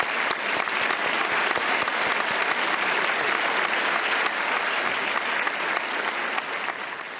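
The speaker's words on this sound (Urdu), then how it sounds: "زوردار تالیاں ہونی چاہیے پیش کے لیے" A studio audience at a televised Ramadan Islamic knowledge quiz show claps loudly and continuously, a dense, sustained burst of applause that tapers slightly at the end.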